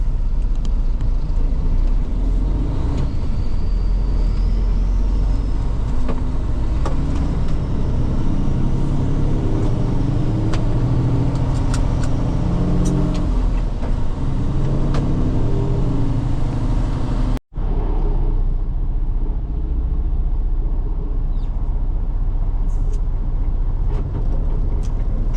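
Truck hauling an empty container chassis, a continuous loud engine rumble with road noise and shifting tones, briefly cut by a sharp gap before resuming.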